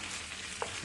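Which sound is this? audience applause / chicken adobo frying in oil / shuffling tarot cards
chicken adobo frying in oil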